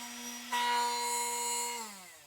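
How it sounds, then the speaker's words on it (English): A power sander working painted wood down toward bare timber, a steady high whine that starts abruptly, holds evenly for over a second, then winds down in pitch as it stops. "I need to see if I can sand off this paint and get it down to raw wood."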